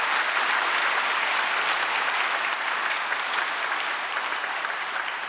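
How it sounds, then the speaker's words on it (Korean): A church congregation claps in welcome for returning missionaries during Sunday worship, a dense, even wash of applause lasting several seconds without voices. "우리 한번 환영의 박수 보내드리겠습니다"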